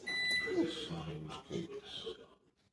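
An oven timer sounds a short run of high, thin electronic beeps as it finishes, heard near the start over a person talking close by, in a home kitchen while a cake bakes.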